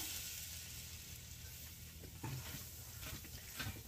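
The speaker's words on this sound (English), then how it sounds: "let me just put a good bit of flour there. And we're going to mix it in with this butter here." Flour being stirred into butter in a pan for a chicken and biscuits casserole, a soft sizzle with a few scraping stir strokes toward the end, fairly quiet and without talk.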